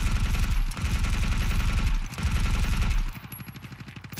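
Sustained machine-gun fire from a Ground Branch PvP firefight, loud rapid rhythmic bursts with brief gaps, close and dominant with no talk over it.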